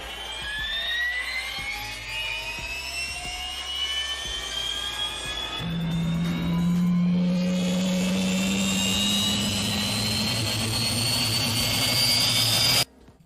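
A turbojet engine spools up, its rising whine climbing steadily in pitch while a deep rumble swells in midway, building to a loud roar before cutting off abruptly.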